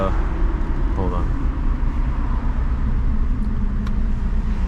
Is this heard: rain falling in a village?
no